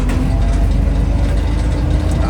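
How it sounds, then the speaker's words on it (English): A Willys CJ5 Jeep with a Chevy 4.3L V6 and rebuilt T-90 transmission drives along with a loud, steady engine drone and a faint whine from the transmission underneath. "Transmission still makes noise, not as much as it used to, but a little bit."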